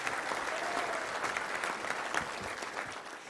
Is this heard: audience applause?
yes